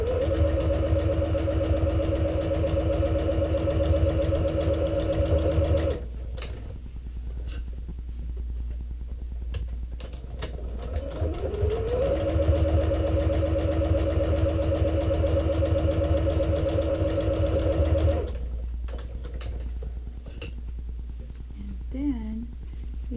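A sewing machine stitches down both sides of a mini saddle bag with a 2/8 inch seam, its steady motor whirr running in long close bursts, stopping for a pause of handling noise before starting again.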